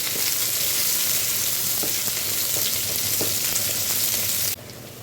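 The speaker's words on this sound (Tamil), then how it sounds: "வெங்காயம் சேர்த்துக்கலாம். நல்லா வதக்கி விட்டுக்கலாம்" Onions with cinnamon, cloves, cardamom and fennel frying in hot oil for an egg gravy, a loud dense continuous sizzle with occasional stirring clicks, dropping in level just before the end.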